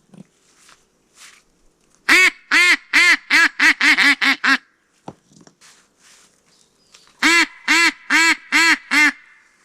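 A cheap, decade-old goose call blown to imitate geese, giving loud honking bursts in a fast run of about nine calls, then a pause, then another run of about five, close and clear in a quiet forest.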